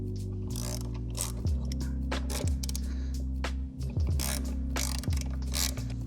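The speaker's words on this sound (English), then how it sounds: "You're gonna take this bolt and that bolt out." Brake caliper bolts being worked loose on a Honda Rebel 1100, with rapid ratcheting clicks from a hand tool in repeated bursts over a steady low mechanical hum.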